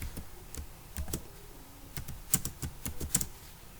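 Computer keyboard typing Java code, a close run of irregular key clicks and taps with short pauses, no voices.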